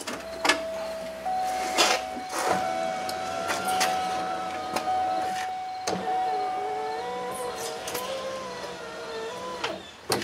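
The power window motor of a 2000-2005 Chevrolet Impala, with a newly fitted window motor and regulator, runs as a steady, fairly loud electric whine. Its pitch shifts slightly as the glass travels and stops, with clunks at the start and end.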